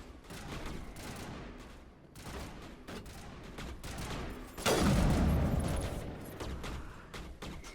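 Firefight in the Mass Effect game on the Citadel: bursts of rapid gunshots crackle in clusters, with a heavier, louder volley swelling near the end and tapering off.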